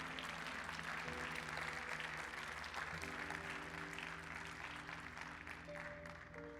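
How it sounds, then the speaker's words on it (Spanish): Church congregation applauding during a sermon, a steady broadband wash of clapping that holds at an even level for several seconds, with sustained tones underneath throughout. "Sí, aplaudan, por favor."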